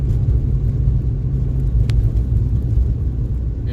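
A car drives over rough, poorly kept city streets in East Oakland, giving a continuous low rumble and road roar at steady loudness, with a brief faint squeak partway through.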